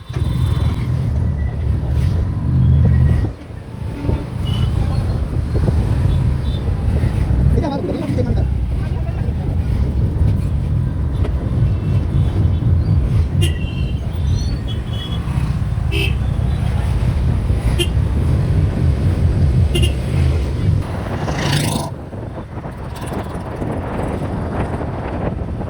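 Motorbike ridden along a road with heavy wind buffeting the microphone, a steady roar of engine and rushing air throughout, with occasional talking under the noise.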